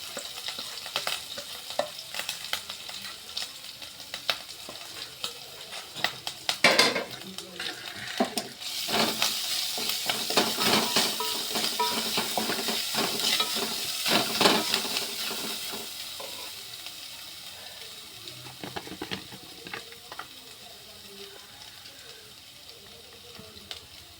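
Coconut pieces fry in oil in a pan and get stirred, a soft continuous sizzle with scraping and clinking strokes of the spoon, moderately close and fairly quiet throughout.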